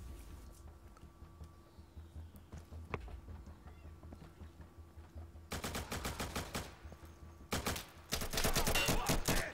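Gunfire aimed at the player in the tactical shooter Insurgency on a small, fast-paced map, with bursts of rapid automatic shots breaking out in clusters during the second half over a low steady game hum.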